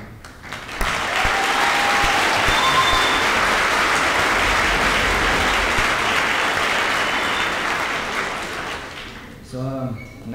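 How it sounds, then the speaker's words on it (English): Loud, sustained applause for graduates at a high school graduation ceremony, a dense wash of clapping that starts abruptly, holds strong for several seconds, then tapers before a voice briefly comes in. "So I just want to clap for a second for you guys and thank all of you."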